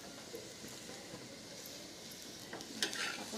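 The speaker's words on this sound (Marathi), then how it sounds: "आपण असं दाबूनच कडेकडेने चांगला भाजायचा मस्त." An aloo matar paratha pressed down and roasted in a lightly oiled pan gives a soft, faint sizzle and scraping, with a brief clatter near the end.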